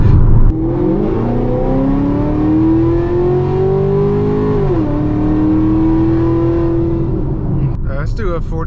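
A Camaro ZL1 V8 fitted with long tube headers revs loudly and steadily up close, its rising and falling engine note holding for several seconds before dropping near the end.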